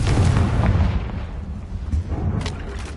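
Confringo spell explosion in Hogwarts Legacy: a heavy, booming blast rolling into a low rumble, followed by a couple of smaller sharp pops near the end.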